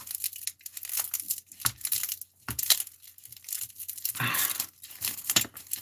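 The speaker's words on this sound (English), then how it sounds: "Okay, this smudge is falling apart, and that's okay. I'm just gonna cut it." A string being cut off a crumbling smudge stick, with close dry crinkling, tearing and crunching of loose dried herbs in uneven bursts, no talking.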